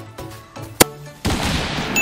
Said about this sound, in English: I swear this is a bolt-action rifle.